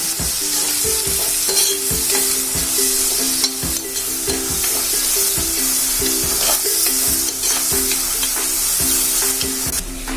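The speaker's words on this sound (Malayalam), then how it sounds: "അപ്പൊ സവാള വഴറ്റുന്ന സമയത്ത് നമ്മൾ ഒത്തിരി ഉപ്പിട്ട് കൊടുക്കുകയാണെങ്കിൽ അത് വേഗം വഴഞ്ഞു കിട്ടുക." Sliced onions sauté in a hot pan for a Kerala fish roast, a loud close sizzle under regular scraping strokes of a spoon stirring them, with no talking.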